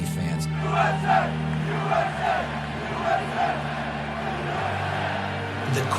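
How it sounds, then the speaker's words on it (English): Fans at a Yankee Stadium baseball game chant "USA" in a loud, rhythmic roar, and the massed voices swell with each repetition of the chant. "The crowd just erupts in a chant of USA."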